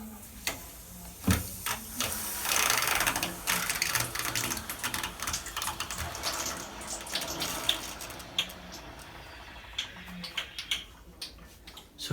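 Water drains from a hot water heater fitting out through a hose, giving a faint, uneven trickle and splash with scattered clicks and ticks, no talking heard.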